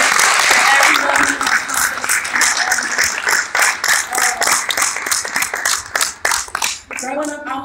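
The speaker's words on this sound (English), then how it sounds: "can we just give a round of applause for all the women in here" A large audience breaks into loud, sustained applause and scattered cheers, dense clapping filling the room for several seconds, with voices rising near the end.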